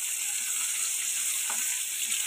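Shrimp fry in a pan with a steady, bright sizzle and crackle, close and continuous, and a few soft stirring scrapes.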